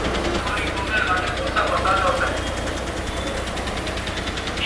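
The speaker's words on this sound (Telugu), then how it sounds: "ఇంజన్ వచ్చేసి BS6." A new BS6 state transport bus engine runs at a steady idle, heard close up as a constant low rumble and rattle, with a voice talking over it.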